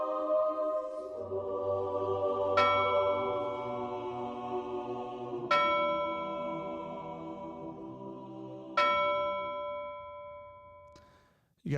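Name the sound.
church bells ringing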